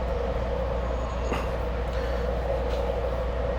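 Steady rumble and rail hum heard from inside a moving passenger train car, with a constant low drone and a few faint clicks, no talking.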